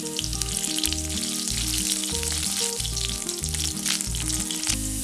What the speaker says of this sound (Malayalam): ഒരു ചെറിയ ഉള്ളി വട്ടത്തിലരിഞ്ഞത്, ഒരു വറ്റൽ മുളക്,